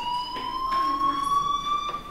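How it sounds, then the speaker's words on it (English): A school fire alarm in the video game Life is Strange rings with a steady, loud electronic tone, continuous and unbroken, with faint background sounds but no talking. "do you hear that fire alarm? That means you should be outside."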